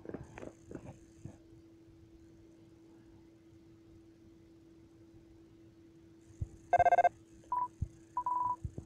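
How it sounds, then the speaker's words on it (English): In the Undertale video game an incoming phone call rings as a short run of bright electronic beeps near the end, following several seconds of near-quiet with only a low hum. "Oh, hold up. I got a phone call?"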